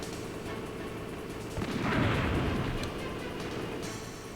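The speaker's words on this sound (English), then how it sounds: "I think I have to wait for the cannon shot before I come out of cover." A single muffled cannon boom rolls out midway through a quiet stretch of Metal Gear Solid game ambience, swelling briefly before fading back down.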